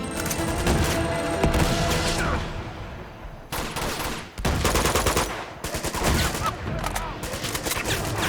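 Sustained automatic gunfire from an Uncharted 2: Among Thieves shootout, dense bursts of rapid shots nearly continuous across the clip, with brief lulls and loud renewed volleys.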